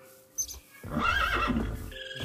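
A horse in a video game gives a loud, close whinny after a brief quiet start, the neigh carrying on for over a second with faint game ambience behind it.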